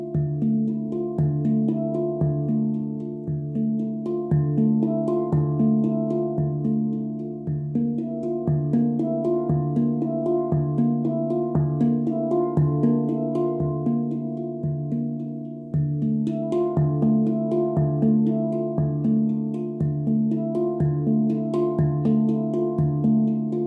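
A handpan plays a slow, meditative pattern of struck steel notes in a steady repeating rhythm, warm resonant tones ringing into each other, close and clear with no voices.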